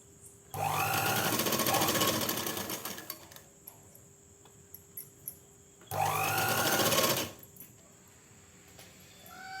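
A sewing machine stitches pleats on a salwar pant in two loud bursts of rapid, steady whirring, each a few seconds long and close up, with faint handling clicks and a quiet gap between them.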